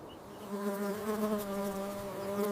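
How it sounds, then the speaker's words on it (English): Bees buzz steadily close by among strawberry flowers on a farm, a sustained humming drone that rises slightly after the first half second and continues without pause. "Bees pollinate the strawberry flowers, enabling fruit development across each row."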